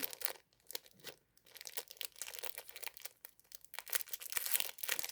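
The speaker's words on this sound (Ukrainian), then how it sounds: "Відкривається пакетик." Soft, close crinkling and rustling of a thin plastic packet of coral beads being handled and opened, quiet and irregular, with no talking.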